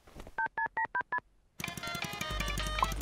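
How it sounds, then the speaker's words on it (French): Five quick telephone keypad tones beep in a short, even sequence, clear and close, followed after a brief pause by a noisier burst of background sound. "je vais appeler Joko tout de suite et lui demander de nous rendre nos affaires"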